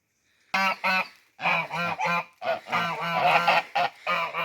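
Geese honk repeatedly in loud, harmonic bursts, several calls overlapping in a noisy flock close by, with short pauses between volleys.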